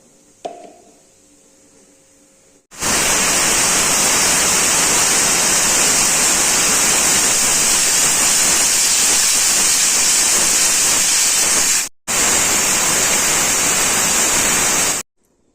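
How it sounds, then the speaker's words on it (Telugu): After a brief quiet start, a loud, sustained hiss of steam bursts out, a pressure cooker cooking lentils venting continuously through its whistle, with one short break near the end. "మూడు విజిల్స్ వచ్చిన తర్వాత స్టవ్ ఆఫ్ చేసుకొని కుక్కర్ తీసి పక్కన పెట్టుకొని"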